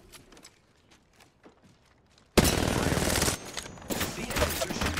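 Automatic gunfire erupts suddenly in the video game Apex Legends, loud sustained bursts following a quieter stretch of soft footsteps and clicks, with brief pauses between volleys.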